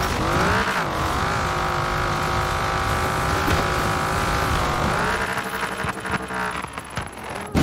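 Car engine in Forza Horizon 4 holding a steady, loud drone that climbs and shifts pitch as it drives, with brief tire noise toward the end and no talk over it.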